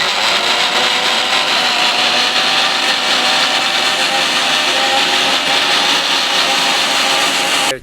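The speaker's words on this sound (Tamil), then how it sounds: "இன்னும் ஒரு அரை அரைக்கணும்" A mixer grinder runs steadily at full blast, grinding fish curry masala in a loud continuous whir that holds for the whole stretch and then cuts off abruptly at the very end.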